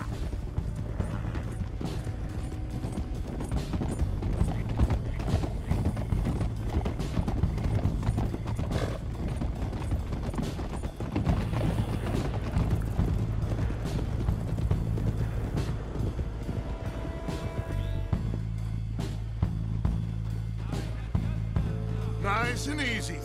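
Horses ridden by a group of cowboys clip-clop steadily through town, a loud continuous patter of hooves with occasional whinnies and wind, lasting throughout.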